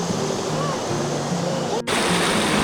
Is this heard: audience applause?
no